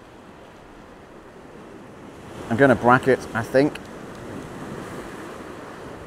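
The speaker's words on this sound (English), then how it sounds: "The waves will break around here." Ocean waves break against rocks beside a headland, a steady wash of surf mixed with wind noise on the microphone, while someone speaks briefly partway through.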